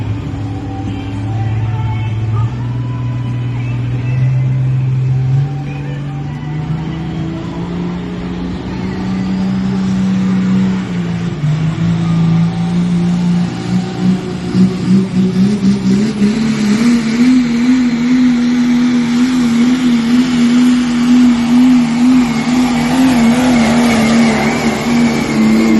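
Diesel truck engine roaring at a West Coast truck pull, a loud sustained drone whose pitch climbs and wavers as the engine revs harder, with rising tire and mechanical noise toward the end.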